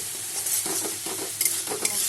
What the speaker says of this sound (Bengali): মশলা আমার কষানো হচ্ছে।